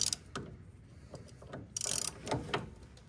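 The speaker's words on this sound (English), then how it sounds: "And then I got to tighten up that bolt for the steering shaft." Ratchet tightening a steering shaft bolt on a Jeep XJ during a gearbox swap, quiet clicking strokes in short irregular bursts, close up with no talking.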